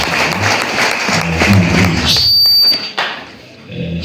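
An audience at a church installation ceremony for a pastor claps in a loud, dense burst of applause nearby, followed by a sharp whistle before the clapping thins and fades.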